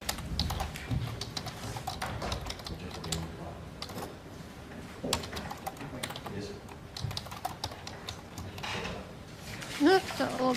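Rapid, irregular clatter of typing on a computer keyboard close to the microphone during a court bond hearing, continuous throughout with a few louder strokes, while faint voices talk in the background.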